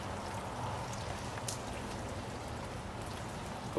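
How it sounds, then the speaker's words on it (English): Steady drizzle of rain falling outdoors, a dense, even patter of fine drops that holds at a constant level throughout, with no voices. "It's just a steady drizzle out there today."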